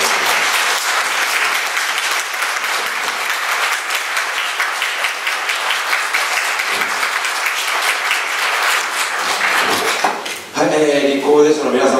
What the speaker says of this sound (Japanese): 皆様、立候補予定者の皆様に今一度盛大な拍手をよろしくお願いします。